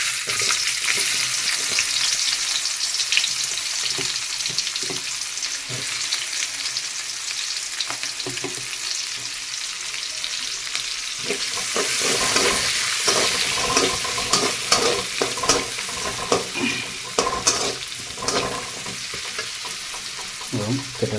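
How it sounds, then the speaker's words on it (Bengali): Chopped onion is dropped into hot oil and fries with a dense, loud sizzle that grows rougher midway as it is stirred, giving scraping and crackling over a continuous hiss. "তেল গরম হয়ে গেছে, এবার কেটে রাখা পেঁয়াজটা দিয়ে দেবো।"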